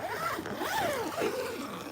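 The zipper of a cheap, tent-style greenhouse cover is drawn shut with several close, rasping pulls that rise and fall in pitch, filling the moment with no talking.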